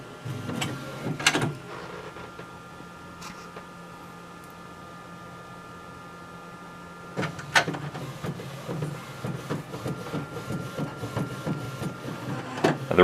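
A Primera Bravo 4200 disc autoprinter robot runs with a steady mechanical hum, broken by sharp clunks and sliding movements of the arm and tray, then a busier stretch of whirring and clicking near the end.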